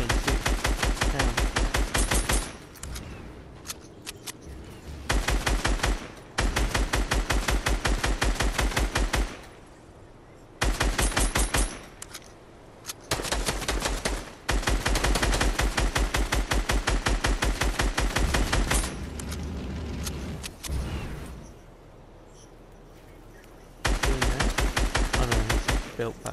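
Rapid automatic gunfire from the video game Fortnite rattles in long, loud bursts separated by brief lulls, with a voice talking in places.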